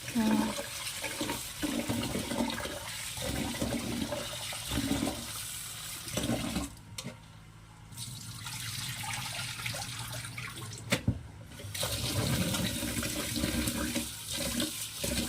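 Fenugreek seeds are rinsed in water in a kitchen during dosa batter preparation, with running water and sloshing splashes coming in close, uneven bursts and brief pauses.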